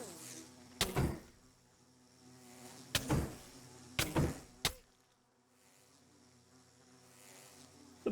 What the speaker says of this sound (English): The bees are unhappy.